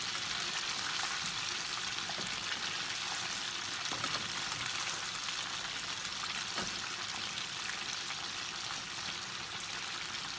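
Goose pieces fry in a pan and get moved around now and then: a constant, even sizzle at moderate volume, with a few soft knocks scattered through it.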